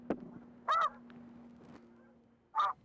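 Snow geese honk in short, distinct calls, with two clear honks spaced well apart over a quiet background, one near the start and another at the end.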